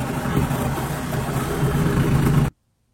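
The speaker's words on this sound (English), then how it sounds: "This is a jigsaw." A jigsaw buzzes steadily and loudly at close range as it cuts, holding an even rasping drone for a few seconds before cutting off abruptly into silence.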